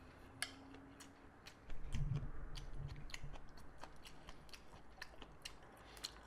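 Chewing and biting on skate (hongeo) bibim noodles, soft repeated crunchy clicks recorded close up, with a louder rustling stretch in the middle and no talking.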